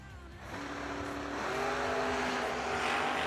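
A lightweight roadster and a heavyweight Oldsmobile launch side by side on a drag strip, engines rising into a loud, sustained roar as the cars accelerate away, with faint announcer talk underneath.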